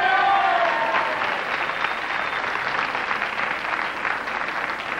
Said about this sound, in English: I wonder if all of those people who are applauding are poker players.